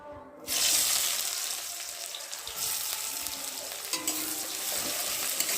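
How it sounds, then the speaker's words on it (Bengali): Onions dropped into hot oil in a kadai burst into a loud, steady sizzle after a brief quiet start, with occasional stirring clinks through the frying, no voices. "এবার তেলটা গরম হয়ে এসেছে, এখন আমি পেঁয়াজ দিয়ে দেবো"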